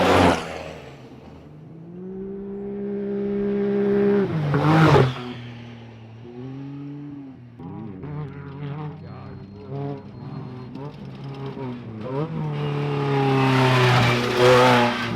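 Race vehicles on the Baja 1000 desert race course roar past one after another, engines rising loud as each nears and fading away between passes, with some revving pitch swings and faint people talking nearby.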